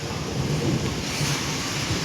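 Wind blowing across an open outdoor spot, a steady broadband rushing roar that buffets the microphone throughout, with no voices.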